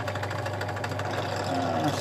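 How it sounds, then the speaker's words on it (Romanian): A drill running steadily and loudly while boring holes in frames held in a drilling jig, its motor drone continuous for the whole stretch with no pauses. "Hai să mai dăm niște găuri."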